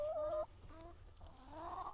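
Chickens cluck softly nearby in a few short, quiet calls, one a drawn-out squawk, with faint background noise and no talk.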